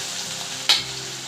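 Dried prawns fry in oil with a soft, even sizzle, broken once by a single sharp tick partway through.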